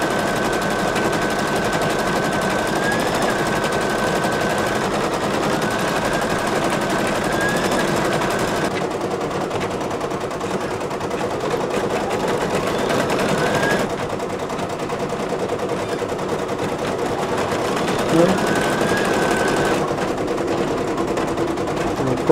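Two computerized embroidery machines stitch a photo stitch design in a steady, fast mechanical chatter that runs throughout, with a few brief shifts in pitch and rhythm as the needles work.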